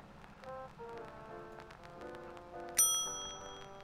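Bright bell chimes from the I Spy: Mystery video game sound in a quick run of light, twinkling notes, capped by one sharper, louder ring that shimmers and fades near the end.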